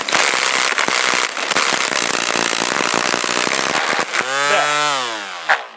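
A Ryobi 18V cordless weed whacker spinning its trimmer line at full RPM, a loud, dense, rattling buzz with sharp crackling slaps that abruptly cuts off and winds down in a falling whine.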